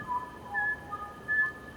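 Whistled language of Ossau Valley shepherds in the Pyrenees, heard as several short pitched whistled phrases with gaps between them, moderately loud over a faint background hum.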